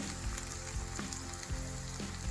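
Onions and drumstick pieces frying in a pan for a catering-style drumstick boondi masala curry, a steady close crackling sizzle with soft stirring bumps, no voices.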